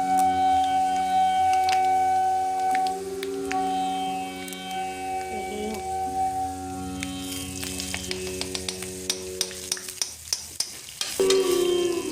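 Panch phoron spices frying in a pan, a soft sizzle under steady background music, with sharp stirring clicks growing more frequent toward the end.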